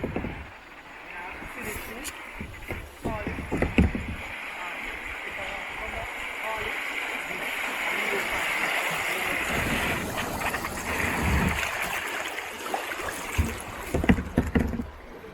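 River water rushes and splashes steadily around a raft on the Shenandoah River in Virginia, a broad continuous wash with occasional sharper splashes and bumps, and faint voices now and then.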